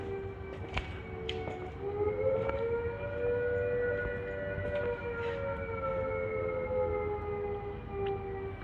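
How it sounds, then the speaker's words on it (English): An air raid siren sounds at a military museum during an air show, a long steady mechanical wail holding a drawn-out tone with a slow pitch rise, moderately loud over faint background noise, with no one speaking. "There's our air raid sirens."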